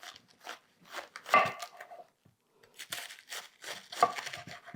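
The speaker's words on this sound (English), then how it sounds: "Now I've rinsed off my cabbage, and what I'm going to do is cut it along the sides" Knife slicing around the sides of a large rinsed head of cabbage, crisp crunching and tearing bursts coming in uneven clusters with short pauses, close and fairly clear.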